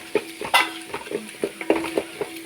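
Onion and green chili sauté in a pan, with a soft sizzle under repeated scraping and clinking of a spoon against the pan in an irregular rhythm.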